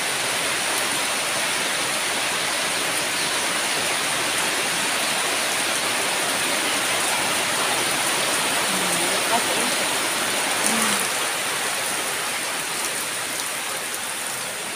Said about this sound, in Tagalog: Pabugso-bugso siya guys, ang ulan.